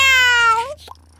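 A cat gives one clear, close meow that rises and then falls away, ending with a soft little trailing sound.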